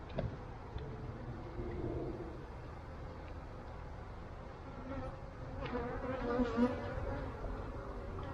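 Honey bees buzz steadily at a hive during an inspection of a recently merged colony, a dense close drone with swelling pitch bursts, occasional handling clicks, and no talk.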